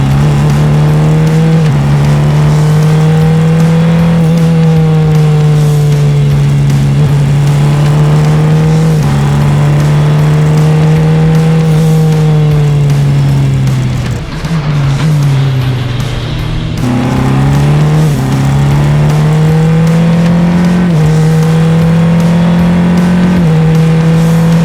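Formula 4 race car accelerating on track, a loud close engine note rising through the gears with brief dips at each shift, continuous and with no talk over it.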